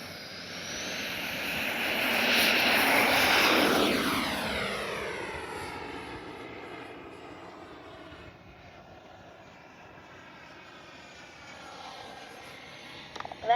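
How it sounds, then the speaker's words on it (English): A Freewing Yak 130 RC model jet with electric ducted fans makes a fast flyby, its whine swelling loud overhead, then sliding down in pitch as it passes and fades into the distance. "Greg, land the Yak 130 now."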